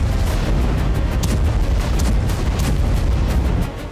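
Explosions on a battlefield in the Russia–Ukraine war, a dense, loud barrage of booms and crackling blasts that roars continuously for about four seconds before easing slightly at the end.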